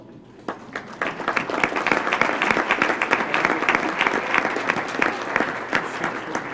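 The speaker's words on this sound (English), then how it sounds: "Can you stand up and get a round of applause?" Applause at a law alumni awards dinner rises from a few scattered claps into a full, sustained round from a seated crowd in a banquet room, steady and moderately loud before easing slightly.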